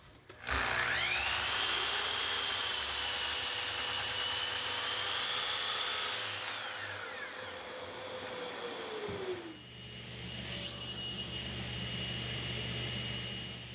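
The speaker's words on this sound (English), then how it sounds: "Then I'll set up a stop block and cut the boards to length at 51 1/2." A power saw cuts white oak boards to length against a stop block in a woodworking shop, with a loud steady motor whine and bite through the wood, then a spin-down and a brief second burst.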